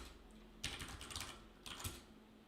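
Two short bursts of quick keystrokes on a computer keyboard, close and fairly quiet, separated by a brief pause over faint room hum.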